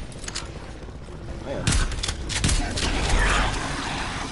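Gunfire in a zombies video game: sharp broadband shots scattered through the clip, heaviest in a short cluster midway, over dense game noise while a voice talks.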